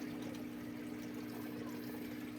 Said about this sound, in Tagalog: lagyan natin ng tubig to kasi maubos yung tubig eh.